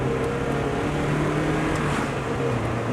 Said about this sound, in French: quand j'accélère, elle fait des ratés